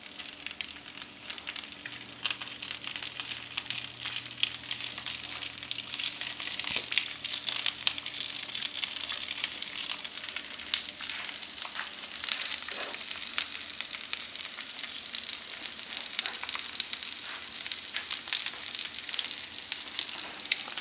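Asparagus ends frying in a pan, a dense, crackling sizzle that carries steadily and fairly close for the whole stretch, with occasional louder pops and spits and no talking.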